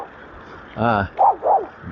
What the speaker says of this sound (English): got a lot of dogs along here